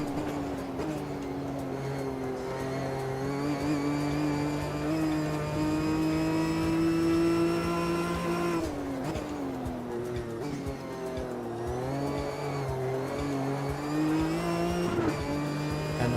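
GT4 race car at Brands Hatch in a racing video game, its engine droning steadily with rising and falling pitch through gear changes and corners, loud and continuous throughout with faint tire noise.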